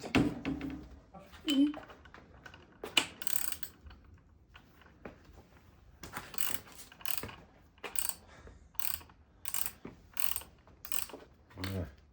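Ratchet wrench with a 9/16 socket loosening a 3/8-inch nut on a 1975 Johnson 9.9 hp outboard motor, giving repeated short clicking bursts of ratcheting spread through the clip, close and moderately loud.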